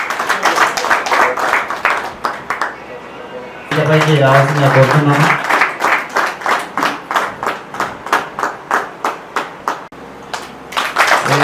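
Audience applause at a felicitation gathering, with broken, rhythmic clapping that swells and fades between stretches of someone speaking over a PA in a hall.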